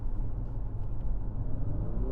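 A 2022 Infiniti QX55 under throttle in snow gives a steady low engine rumble with a slight rising note near the end, continuous and fairly close.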